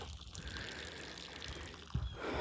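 Well water runs into a tank, a faint, steady splashing trickle with a slightly louder gush near the end, quiet and close.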